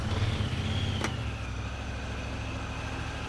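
A Honda Talon UTV with its catalytic converter removed and a turbo fitted runs its engine and exhaust, giving a steady, continuous low drone that holds evenly throughout, heard close from inside the machine.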